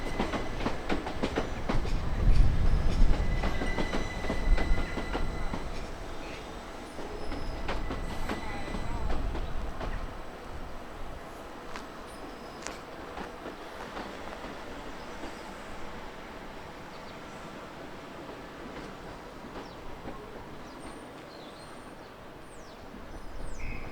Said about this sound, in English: This is dual voltage unit number 375625.